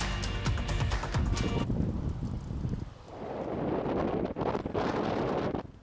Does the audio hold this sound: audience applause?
no